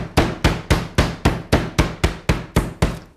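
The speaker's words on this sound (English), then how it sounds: "when you take a pork medallion and you take a piece of plastic wrap and pound it" Pork medallion pounded flat under plastic wrap with a meat mallet, eleven evenly spaced, sharp thumping blows in a steady rhythm, close and loud with no talking.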